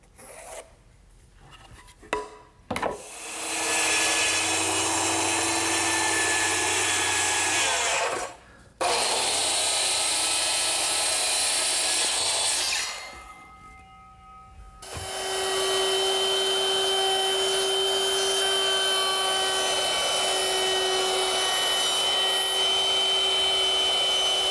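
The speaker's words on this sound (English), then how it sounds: "that 1/4-inch rounding over bit does a nice job at easing all the edges on the seat" Wood router with a 1/4-inch roundover bit easing the edges of wooden seats, loud whining cutting passes broken by two short pauses, then a steady high-pitched whir near the end.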